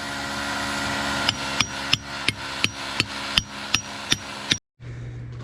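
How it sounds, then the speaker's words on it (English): A hammer drives steel rebar into a concrete block wall in a steady series of about ten sharp, ringing blows, then stops abruptly. "Then you just take your hammer"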